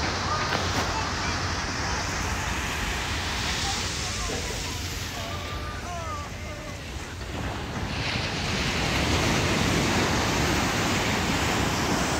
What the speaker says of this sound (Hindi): ये लहरें बहुत ज़्यादा आती है और बहुत तेज़ आवाज़ के साथ